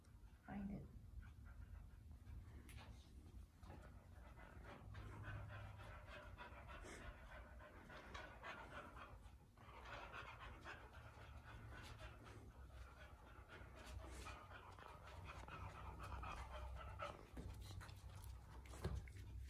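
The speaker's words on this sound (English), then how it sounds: "Until you quit panting." An aging dog pants rapidly and continuously close by, the quick rhythmic breaths fairly soft and mixed with background noise, with a person's voice heard briefly.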